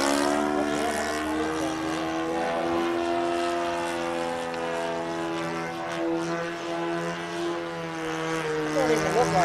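An RC model airplane's propeller drones steadily on a windy day, a sustained buzzing engine tone that shifts slightly in pitch, with people talking over it.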